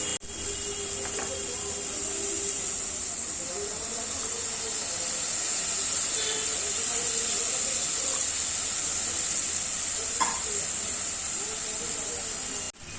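Paneer whey poured into hot spiced masala oil in a pan for a Bengali paneer kofta curry, giving a steady loud hiss and sizzle that holds for many seconds, with faint clinks and a speaking voice underneath.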